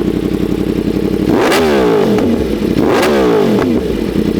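A 2025 Yamaha R1 motorcycle fitted with an SC Project CR-T exhaust idles with a rough, loud burble, then blips its throttle twice in sharp revs that rise and fall back.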